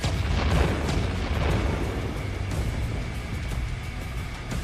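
A loud, rumbling explosion in the video game Clair Obscur, with a booming blast that rolls on as a dense, sustained roar for several seconds.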